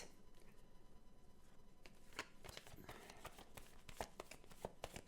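A deck of tarot cards is shuffled close by, a soft continuous riffling with scattered sharper clicks and flicks, quiet throughout with no talk.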